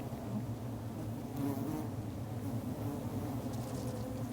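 A steady, droning buzz of many wild bees humming together in a forest, continuous and fairly close, with no talking.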